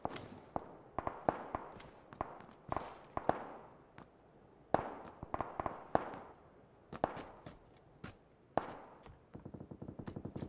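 Gunfire in a PUBG match, with sharp shots cracking in irregular bursts and single pops echoing across open terrain, followed by a rapid automatic volley near the end.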